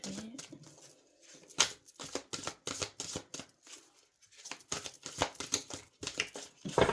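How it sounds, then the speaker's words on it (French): Large oracle cards being shuffled by hand, with a run of crisp, rapid riffling bursts separated by short pauses at close range, no talking over them. "les cartes sont très grandes, donc c'est pas facile à mélanger"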